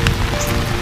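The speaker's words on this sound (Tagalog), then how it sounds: "Maligo sa ulan." Steady rain falling on a surface, a dense continuous hiss and patter filling the whole moment, close and loud with no voices.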